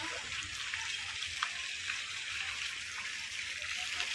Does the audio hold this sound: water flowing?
yes